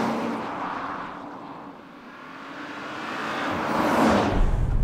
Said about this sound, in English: The V6 isn't as sonorous as you'd like